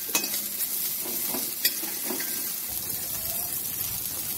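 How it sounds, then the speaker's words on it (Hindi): Bay leaves crackle in hot oil as a tempering for moong dal with moringa, a bright close sizzle with a few sharp pops early on, settling into a steady hiss. "और यहाँ पे तेज पत्ता दे दिया है मैंने।"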